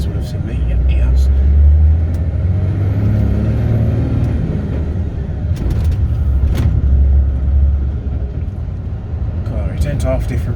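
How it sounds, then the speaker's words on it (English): A truck rumbles along the road in the distance, its low engine drone steady throughout, heard from inside a cab with a brief hiss near the start and faint voices over the road noise. "hopefully this truck in the distance will have seen me"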